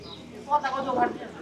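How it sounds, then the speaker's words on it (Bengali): Pigeons of the Giribaz breed cooing at a stall in a Bangladeshi village market, a short soft coo over a quiet background with voices close by. "কবুতর ডাকছে একটা নর আর একটা মাদি"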